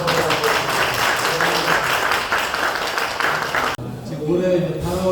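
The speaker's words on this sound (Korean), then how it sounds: "우리 감사의 박수 좀 주고." Dense applause fills a church choir's monthly gathering, then cuts off abruptly partway through, after which a lone voice begins speaking over quieter room sound.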